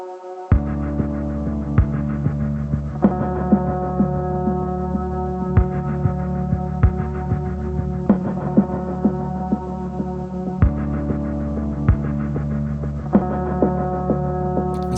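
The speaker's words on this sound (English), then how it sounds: "you hear sort of that reverb on the drums that is kind of pulsing and giving it that like helicopter-like sound" Drums drenched in pulsing reverb from a looper pedal give a throbbing, helicopter-like wash, with repeated hits over a sustained humming tonal bed throughout.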